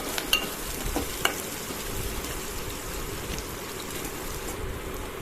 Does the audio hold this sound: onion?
yes